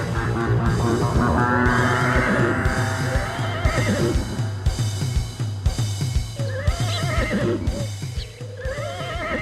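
A horse whinnies repeatedly over a steady rhythmic beat, its loud rising and falling neighs sweeping through the middle of the clip and returning in shorter bursts near the end, with hoof-like clip-clop and music underneath.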